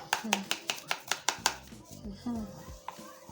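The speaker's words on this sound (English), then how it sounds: "So I'll go ahead to mix this" Hair bleach is stirred with developer in a bowl, with a quick series of about eight sharp, even taps, followed by a person speaking and a few softer scrapes.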